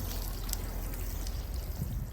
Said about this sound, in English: you're going to be able to blast that off with high pressure water alone